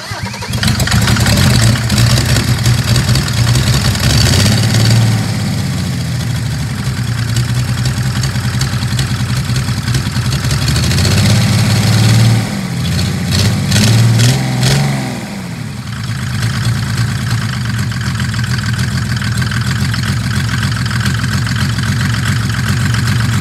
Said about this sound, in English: we're attempting the first start of this engine now